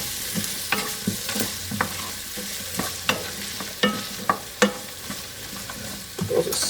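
Chopped onion sizzles steadily in a hot pan while a utensil stirs it, giving a run of sharp scraping clicks and taps over the constant frying hiss, close and moderately loud with no talking.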